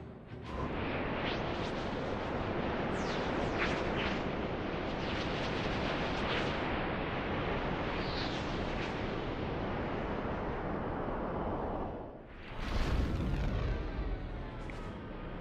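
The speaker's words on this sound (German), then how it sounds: "Jetzt kann ich wieder schießen." In the Lego Star Wars Skywalker Saga video game, Padme's spaceship fires in space amid a dense, roaring wash of blasts and booms. Sharp zaps cut through it, and a bigger blast lands near the end.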